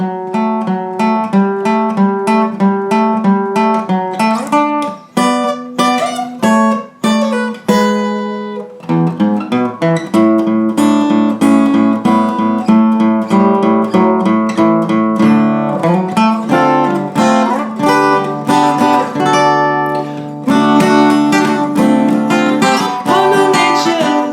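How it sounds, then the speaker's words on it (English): Two acoustic guitars play a song together, one strumming a steady verse rhythm while the other picks a bright melodic line over it, loud and continuous. "there's an instrumental played by a second guitar in front of the verse rhythm"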